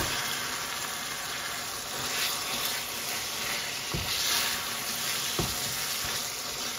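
Chicken mince and onions fry in a pan with a steady, loud, close sizzle and hiss, broken by an occasional stirring knock, with no one talking.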